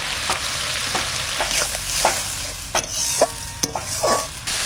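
Spices with tomato and turmeric frying in oil in a pan for a Bengali village dish, a bright continuous sizzle broken by repeated spatula scrapes and knocks as the mixture is stirred, close with no talk.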